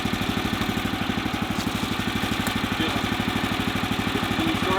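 The small gas engine on a Woodland Mills HM126 portable sawmill idles steadily nearby, a fast even chugging pulse that stays constant throughout, with faint voices in the background.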